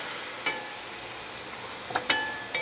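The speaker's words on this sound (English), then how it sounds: "now is your cue to add in your rice" Rice stirred into a pot of roucou-caramelized vegetable pelau, a soft steady sizzle with a few scraping stirs of the spoon, quiet and close.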